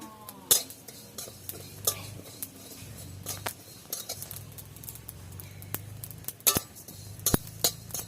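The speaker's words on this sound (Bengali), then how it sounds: "এবার আমি ধনে আর জিরেটা ভেজে নেব" Coriander seeds and cumin are dry-roasted in a pan and stirred, producing scattered scraping strokes and sharp metallic clinks from the utensil, with no sizzle.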